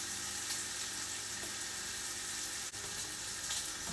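Bacon frying in a pan, a steady close hiss and sizzle with faint crackle, continuous and moderately loud with no voices over it.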